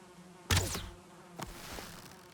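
Bees buzz around a beehive in the video game Valheim, two brief swelling hums passing close by against a low, steady background drone.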